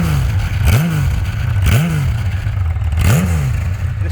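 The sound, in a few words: 1982 Kawasaki KZ1300 six-cylinder motorcycle stock exhaust revving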